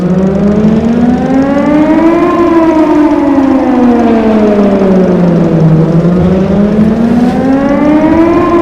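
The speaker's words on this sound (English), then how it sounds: "I heard this siren from my apartment in Bright City every once in a while" A loud wailing video-game warning siren rising and falling in pitch in slow sweeps, continuous and close, with no voices.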